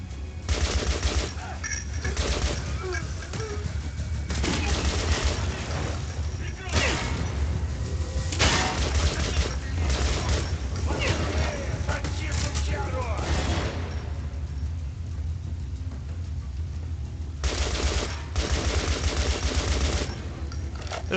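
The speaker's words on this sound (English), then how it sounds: "So we're just gonna bust out the AK, because" In the video game Metro: Last Light, an AK rifle fires loud, rapid automatic bursts again and again, with only brief gaps between them, and a voice talks over the gunfire.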